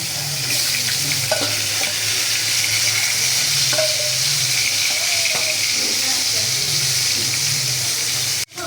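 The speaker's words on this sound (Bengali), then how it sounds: "বাকি মাছটুকু আবার ভাজা নেব।" Koi fish fry in hot oil with a steady, loud, hissing sizzle that fills the whole stretch, then ends in a sudden clunk.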